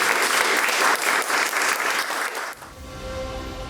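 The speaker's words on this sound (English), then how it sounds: "please give a round of applause for our panelists" A crowd claps in steady applause for a couple of seconds, then the clapping fades out into a soft tonal background.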